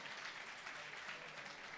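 Audience at an award ceremony applauding, a faint, steady wash of clapping heard from a distance, continuous and even.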